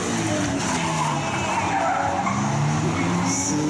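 A Subaru BRZ slides through a demo run at a Subaru fan event, its tires skidding and squealing in one loud, continuous rush with engine noise beneath, steady for the whole few seconds.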